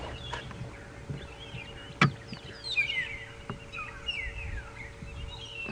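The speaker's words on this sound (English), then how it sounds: "long-tailed shrike, or magpie shrike" A magpie shrike, also called long-tailed shrike, calls at a game reserve during a morning safari drive, with faint scattered chirps and whistles over quiet outdoor background and one sharp knock.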